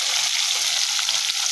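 Fish coated with spices fry in a pan in a village kitchen, giving a constant, close hiss of bubbling oil with faint crackles and no voices.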